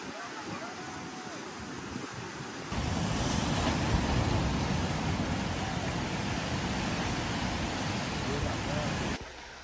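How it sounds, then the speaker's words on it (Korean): Sea waves break against the rocks of Chodae Rock on the Samcheok coast of Korea's East Sea, a loud sustained roaring wash that swells midway, with wind buffeting the microphone. "바위 앞에서 파도가 한바탕 춤사위를 펼친다."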